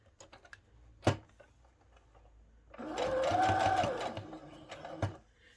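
A sewing machine runs a 5/8 seam on a satin-lined bonnet, starting with a few isolated clicks and taps, then whirring in one close, steady burst lasting about two seconds.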